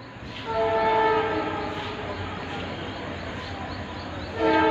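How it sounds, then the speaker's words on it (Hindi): A train pulls into Ambala City railway station in the early morning, sounding a long horn blast over rumbling wheels, with a second horn starting at the end. "और एक ट्रेन भी आ रही है सुबह सुबह, देख सकते हैं आप"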